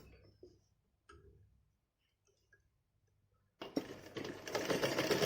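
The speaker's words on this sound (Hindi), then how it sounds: "और यहाँ सिलाई लगा लेंगे एक" A sewing machine stitches a child's Holi dress: quiet handling sounds and faint ticks at first, then the motor starts at about 3.6 seconds with a steady, close, rapid mechanical whir.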